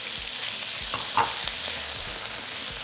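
Onion and pre-cooked nopalitos sauté in a pan, a steady close sizzle with a few scraping stirs, no voices.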